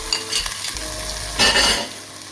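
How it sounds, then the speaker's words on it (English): Ground ginger and garlic drop into a hot pan among nearly cooked onions for beef pilau, and a loud burst of sizzling follows, set among stirring scrapes and a steady frying hiss. "I'm going to add this ginger and garlic, the ground ginger and garlic now"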